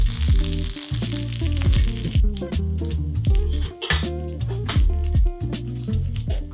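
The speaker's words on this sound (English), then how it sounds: "And to the pan, just add the garlic." Garlic frying in oil in a pan while pasta cooks nearby, a steady close sizzle lasting throughout, overlaid with tonal hum and occasional clinks, with no voices.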